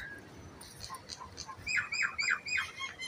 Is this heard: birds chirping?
yes